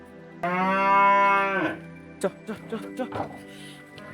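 A single long, loud cattle moo lasting over a second, followed by scattered short bumps and shuffling noises.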